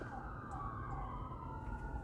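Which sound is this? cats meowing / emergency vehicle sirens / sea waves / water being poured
emergency vehicle sirens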